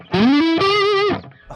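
An electric guitar played through an EVH 5150iii EL34 amp on the blue channel with a Tube Screamer engaged rings out in two sustained, heavily overdriven lead notes, loud and close, the second holding before cutting off.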